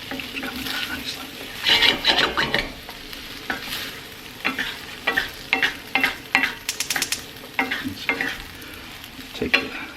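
Fried rice is stir-fried in a 12-inch heavy-duty 5-ply stainless steel pan, with close, busy scraping and tossing over a steady sizzle, strokes coming in irregular bursts and no talk.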